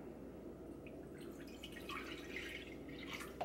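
Cool tap water pours steadily for no-knead Italian sesame seed bread dough, a continuous moderate splashing and trickling stream with faint drips, no voices.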